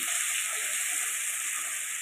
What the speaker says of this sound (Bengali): ভালো করে মশলাটা তেলের মধ্যে ভাজা ভাজা করে নিচ্ছি।